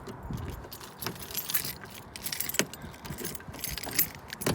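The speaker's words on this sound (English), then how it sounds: "You've got this round key, that's what I call it, that unlocks the doors." A round key jangling on its ring and turning in the door lock of a 1990 Chevy Silverado pickup, a steady metallic rattle close up with light clicks and no talking.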